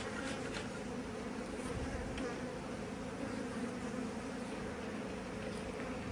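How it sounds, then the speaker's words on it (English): Package honey bees being installed into a new hive buzz steadily and densely, a continuous swarm hum close to the listener with no talking. "So these guys will be easier to defend off all these robber bees that we're having issues with right now."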